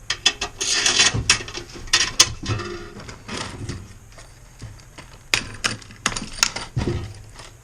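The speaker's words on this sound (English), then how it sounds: "we're going to take these tall screws and send them right to the bottom" Tall screws are driven through an ammo box grill build in quick irregular bursts of ratcheting, mechanical clicks, close and fairly loud, with short pauses between the runs.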